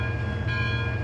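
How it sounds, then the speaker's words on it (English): A diesel locomotive idles in a video game, its low steady engine drone and a faint tonal ring held evenly under a brief change partway through. "we can ring the bell to warn that the train is leaving the station"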